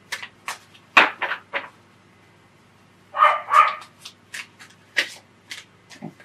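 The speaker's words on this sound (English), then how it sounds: "Maybe somebody's dog is loose out there, huh?" A loose dog barks outside, a few sharp barks in quick clusters, heard indoors alongside the brisk rustle and snap of tarot cards being shuffled.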